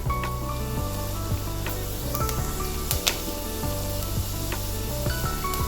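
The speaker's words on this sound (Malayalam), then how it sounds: "ഇഞ്ചി നല്ലോണം ഒന്ന് മൂത്ത് വരട്ടെ." Ginger sizzling and frying in a hot pan for tapioca masala, a steady close crackle with occasional light scrapes and clinks of a spoon, no voices.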